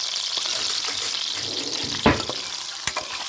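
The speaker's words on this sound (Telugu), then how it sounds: "ఎగ్స్ కాసేపు వేగాలి ఫ్రెండ్స్." Eggs fry in hot oil with a steady, close sizzle, broken by a couple of sharp stirring clinks toward the end.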